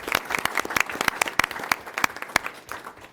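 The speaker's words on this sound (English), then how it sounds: "Let's give them a round of applause now, if you will." A room at a Sacramento Regional Transit District board meeting breaks into applause for board members, a modest round of distinct hand claps, fairly close and uneven, lasting a few seconds.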